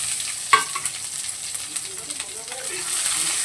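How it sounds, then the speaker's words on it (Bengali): Chopped onions dropped into hot oil with a whole garam masala tempering, giving a steady, moderate sizzle with a sharp clatter near the start as they go in and light stirring throughout. "ফোড়নটা হয়ে গেছে, এবার আমি বেশ খানিকটা পেঁয়াজ কেটে দিয়ে দিলাম"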